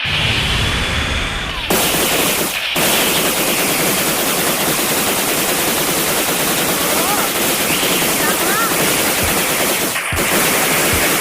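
A domain skill attack firing in a video game, a loud, dense, continuous roar of rapid gunfire-like blasts that runs for over ten seconds with only a couple of brief breaks.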